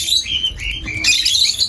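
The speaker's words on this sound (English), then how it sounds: "These are lovebirds." Lovebirds and parrots chirp while being hand fed seeds, giving a steady run of close, high, bright tweets and squeaky calls.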